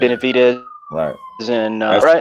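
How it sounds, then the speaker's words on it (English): A faint ambulance siren wails in the background, its steady falling tone running beneath loud, close conversation between men. "That's the ambulance."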